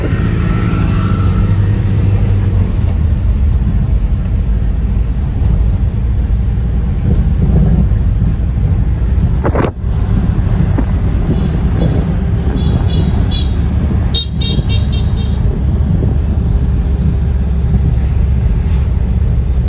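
Road traffic in Baguio City heard from inside a moving vehicle, a loud steady rumble of engines and road noise with wind buffeting and a brief sharp knock partway through.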